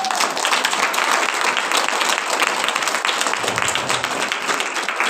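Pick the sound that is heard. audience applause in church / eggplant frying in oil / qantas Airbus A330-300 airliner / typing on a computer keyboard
audience applause in church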